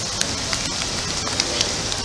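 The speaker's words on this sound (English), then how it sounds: "but it's still raining." Steady rain falling at Disney World on a partly sunny day, a soft continuous patter with scattered louder drops striking a nearby surface, no talking.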